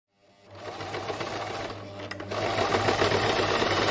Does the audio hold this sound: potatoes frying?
no